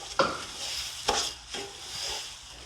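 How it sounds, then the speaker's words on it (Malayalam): Basmati rice being dry-fried and stirred in a pan while making Kerala-style chicken dum biryani, with a few sharp scraping strokes over a soft, steady sizzle, close and moderately loud. "ഇത് നന്നായി ഒന്ന് വറുത്തെടുക്കാം നമുക്ക്."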